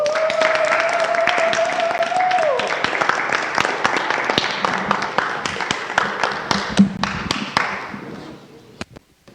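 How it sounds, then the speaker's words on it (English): An audience at an International Overdose Awareness Day 2022 event in Ward 6, Washington DC, claps in a dense burst of applause that thins into scattered, separate claps before fading out. Brief talk and a whistle-like tone sound early on. "please give her one more round of applause"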